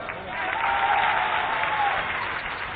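A crowd at an outdoor political development-works ceremony in Gairatganj, Raisen, claps to welcome a visiting leader: a brief, dense, steady burst of applause from many hands.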